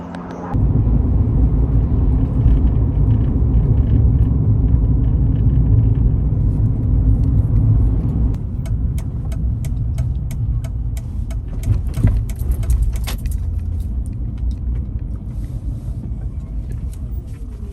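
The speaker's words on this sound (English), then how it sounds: "So I'm going to get in the car" A car engine idles steadily inside the vehicle, a loud continuous low rumble that drops slightly in level partway through, with some faint clicks and rattles, before a drive to a plant nursery.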